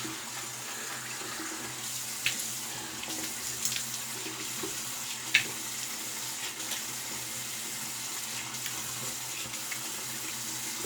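Cool tap water runs steadily into a sink while the face is rinsed after a shave with a Merkur Super Platinum blade, a continuous close rush with a few light splashes and no talking.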